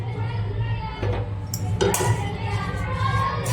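A spoon scrapes and clinks against a bowl while dabeli ingredients and powdered sugar are stirred and mixed, uneven close clattering knocks over faint background voices.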